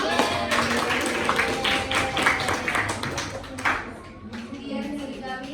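Students clap for a group performance, a run of quick, close claps and taps in a classroom, with a voice talking over them toward the end.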